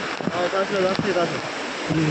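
A big waterfall in the Maharashtra countryside, swollen with heavy flow, roars as a steady broadband wash of falling water, with voices talking intermittently over it.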